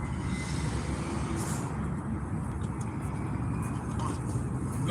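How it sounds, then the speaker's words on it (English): Wind blows hard across the microphone at an outdoor bus stop, a steady loud rumbling buffeting that fills the whole stretch with no break. "this wind is killing me right now"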